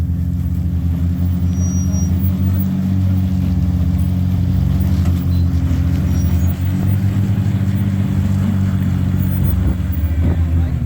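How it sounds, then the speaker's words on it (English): A vehicle engine drones steadily and loudly at high revs while its tires spin for grip before a jump attempt, a constant low roar throughout with no clear speech. "Just trying to get those tires to bite."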